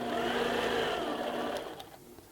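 A sewing machine stitches fabric in a loud, steady motor whir up close, then slows and fades out near the end, without talking.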